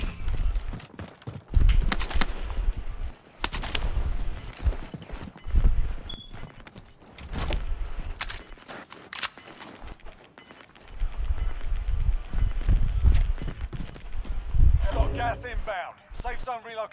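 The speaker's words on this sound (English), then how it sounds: "Oh, somebody's shooting." Gunfire in Call of Duty: Modern Warfare, scattered sharp shots and thumps at varying distances, some loud and close, with a voice talking in between.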